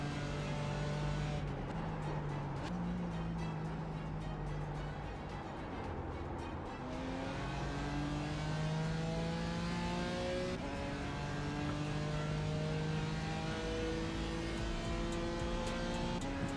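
A BMW in a racing video game revs hard, its engine tone climbing and shifting through gears in repeated rising sweeps, loud and continuous throughout with no talk.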